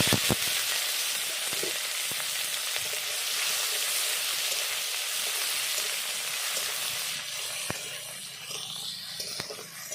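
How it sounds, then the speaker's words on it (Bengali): Onion and tomato fry in hot oil with a steady, loud sizzle and crackle, broken by occasional sharp pops and spatters. "টমেটো পেঁয়াজটা ভেজে নিয়েছি"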